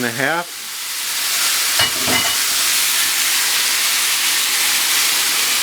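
Crawfish tails, a pound and a half, hit hot melted butter in a pan with a burst of loud sizzling that settles into a steady, close, broadband frying hiss, with a couple of brief stirring scrapes partway through.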